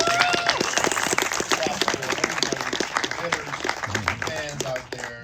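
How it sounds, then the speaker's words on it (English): An audience applauds an auctioneer at a Batman memorabilia auction at Warner Brothers Studios, with dense, steady clapping from a nearby crowd that tapers off at the end. "I want to give a little round of applause to our auctioneer, Mark."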